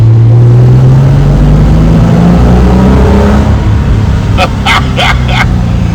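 A Reliant Scimitar fitted with Cherry Bomb exhausts drives through a tunnel, its engine a loud, steady droning rumble that rises in pitch as it accelerates, with a few short sharp bursts near the end.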